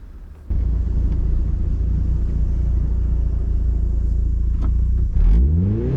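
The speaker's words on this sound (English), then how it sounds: "here's a couple shots of me and my son just doing a little bit of road testing on the Miata afterwards" An auction-bought Mazda Miata on a road test gives a loud, steady engine drone with road rumble after a sudden start, then a rising rev near the end.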